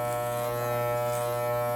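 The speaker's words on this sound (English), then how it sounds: "I'm gonna bring the machine in this direction to cut the hair." Electric hair clippers cutting hair, giving a steady close-up buzzing hum with a slight change in tone as the blades move through the hair.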